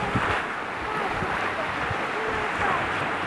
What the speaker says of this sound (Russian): Видишь, какой ветерочек дует холодный.